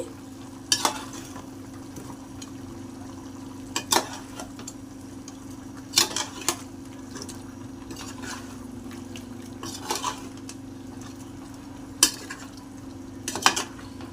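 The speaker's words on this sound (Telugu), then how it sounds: "గరం మసాలా వేసుకొని ఒకసారి బాగా కలుపుకోవాలి" Farm chicken fry with homemade garam masala is stirred in a pan. Sharp metal scrapes and clinks of the spoon strike the pan every second or two over a low, constant sizzle, with no voices.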